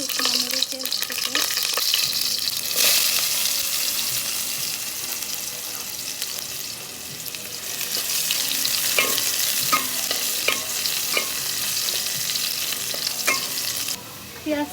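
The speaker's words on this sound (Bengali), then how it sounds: "পেঁয়াজটা ভাজা হয়ে এসেছে" Chopped onions fry in a pan for a Bengali gourd curry, with a steady close sizzle and repeated stirring scrapes throughout; a brief tap or water sound shows near the end, and there is no speech.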